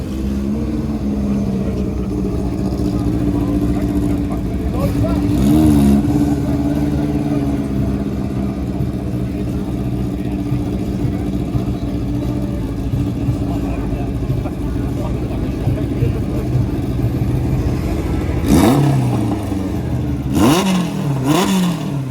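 A March 79B race car at the Simola hillclimb is heard as a sustained engine drone, with a few distinct revving sweeps and passing surges toward the end, moderately loud with some distance.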